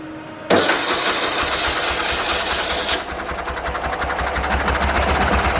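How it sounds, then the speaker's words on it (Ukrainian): A T-012 tractor's UD-25 engine, fitted with a Chinese scooter carburettor and no air filter, cranks briefly, then catches and roars into a loud, rapid, chugging run that settles into a steady rhythm close up. "пробочку знімаємо і спробуємо завести, чи у нас трактор заведеться"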